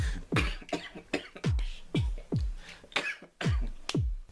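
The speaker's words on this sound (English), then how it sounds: "Cough." A man coughs repeatedly, about nine short, sharp, close coughs in an uneven rhythm with brief gaps between them.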